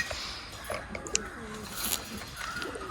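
A pair of Haifa pigeons in a loft give soft, low cooing calls, moderately faint against a steady background hum with a few brief chirpy sounds.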